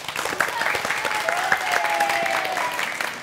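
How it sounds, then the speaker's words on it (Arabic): A studio audience applauds the green team for winning the third round of a children's quiz show, steady broadband clapping filling the whole stretch, with a faint sustained tone running beneath it. "نعم تصفيق عليهم."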